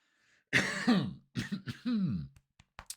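A few harsh throat sounds, a cough or throat clearing, come in close bursts, followed by a couple of short, quieter clicks and breaths.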